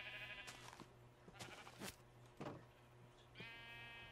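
Several sheep bleats from Minecraft, the blocky video game, sound in short bursts over a steady low hum and a faint background tune, with clear gaps between calls.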